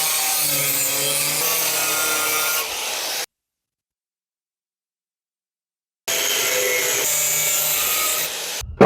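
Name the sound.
hand sawing square scrap metal stock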